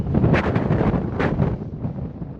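Strong wind at the Quiraing on the Isle of Skye buffets the microphone in loud, rough gusts, with no other sounds.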